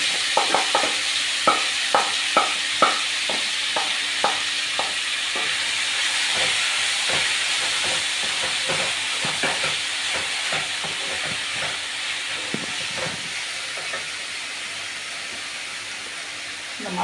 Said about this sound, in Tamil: இப்போ ஆயில் வந்து சூடாயிட்டு நம்ம இப்போ இந்த பன்னீர் பிசைஞ்சு வச்சதை நம்ம சேர்த்துக்கலாம்